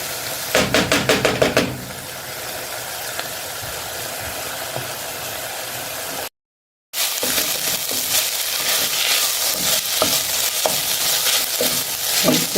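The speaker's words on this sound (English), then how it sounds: "I didn't put too much oil, so I'm constantly turning them so that they're not sticking in the pan" Kiełbasa sausage frying in a lightly oiled pan while being turned often, a steady close sizzle and crackle with scraping stirs throughout, and a brief cut to silence partway through.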